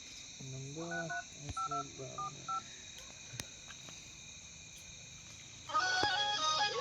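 A telephone keypad sounds a quick run of distinct dialing tones, each a short beep in irregular rhythm, then a pause and a steadier, louder tone pattern toward the end.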